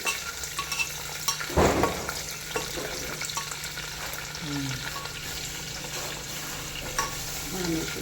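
Garlic, curry leaves, coriander, mustard seeds, cumin and dried red chillies sizzle in hot oil while a spoon clatters and scrapes the pan, one loud knock early on, steady frying underneath, close and without talk.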